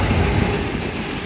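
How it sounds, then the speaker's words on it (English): A train crossing a railway bridge between Streethay and Whittington, heard as a loud, steady broadband rumble and roar with no break throughout, close by and with no voices. "you hear the train go over"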